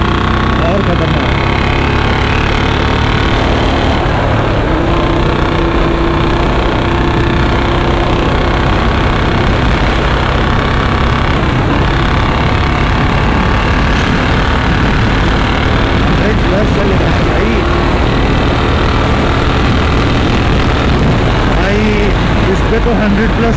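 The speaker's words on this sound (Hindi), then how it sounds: "थोड़ा सा रेव हुआ आगे फटना चालू, और फुल रेव में तो" A Royal Enfield 350 with a long Punjab exhaust runs hard at high revs, a loud continuous engine drone with a steady harmonic tone and rough, buffeting texture filling the whole stretch.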